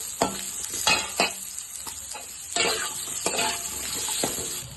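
Two chopped onions fry in a pan for a Maratha-style mutton kheema, a bright continuous sizzle punctuated by repeated scraping stir strokes of a spoon against the pan, close and fairly loud.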